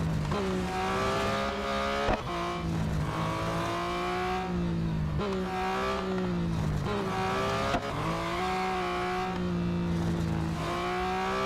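A 2021 Porsche 911 GT3 races in the mobile game Real Racing 3, its engine note rising and falling through repeated gear shifts in a steady, loud drone with brief clicks between upshifts; no speech.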